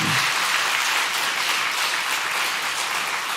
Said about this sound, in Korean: 한 번만 더 격려의 박수 주시길 바랍니다